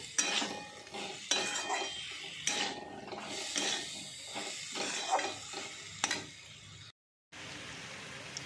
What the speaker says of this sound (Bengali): দিয়ে এবার আলুটার সঙ্গে ভালো করে নাড়াচাড়া করে নিচ্ছি